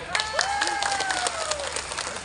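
A crowd claps in a short burst of applause, with a rising whistle cutting through the clapping.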